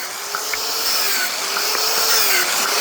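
A power saw fitted with a cutting disc slices through firewood, a loud, steady high-pitched whine with a slightly rising, grinding edge that runs unbroken for a few seconds.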